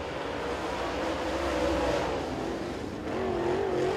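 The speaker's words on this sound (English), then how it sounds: "Brian Selby's first lap time," Super late model race car on a qualifying lap at Crossville Speedway, a steady engine roar heard from a distance with slight pitch changes, fairly faint.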